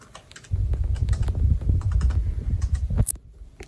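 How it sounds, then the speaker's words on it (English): A password is typed on a computer keyboard, a close, rapid run of soft clicking keystrokes lasting about two and a half seconds before stopping, with no voices. "Then you type in your password"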